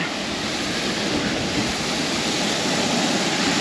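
A waterfall in Spain, the third of three cascades, roars as a steady, even broadband rush of falling water, alone with no voices.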